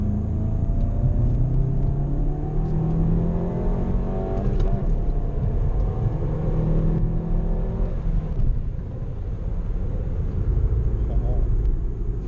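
A 6-speed manual Mk7 VW GTI engine drones from inside the cabin, a steady low rumble with road noise, holding constant throughout.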